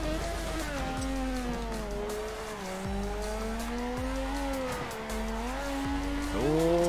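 A Mazda RX-7 FC drift car with a 26B rotary engine screams in fourth gear on a drift course, its engine note rising and falling nonstop, with short revving dips and tire noise throughout.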